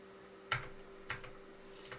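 Keystrokes on a computer keyboard during a lecture, a few distinct taps spread across two seconds, moderately close and fairly quiet against a faint steady hum, with no talking.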